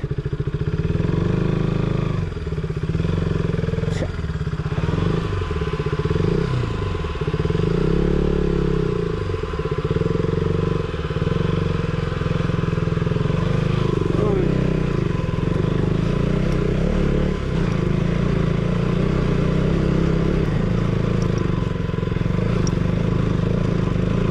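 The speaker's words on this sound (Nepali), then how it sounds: "लु आयो अब बाइक" A KTM Duke 200 motorcycle rides a rough, broken mountain road, its engine droning steadily and loud throughout, with rattles and clatter from the bumpy surface and no talking.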